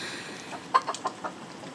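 Chickens out in heavy rain in a garden give a few short, agitated clucks, quiet and spaced over a soft hiss of rainfall.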